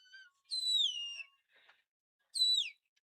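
Two sharp, loud whistled calls with falling pitch, separated by a brief soft rustle, directing a herding dog working sheep at a national sheepdog trial final.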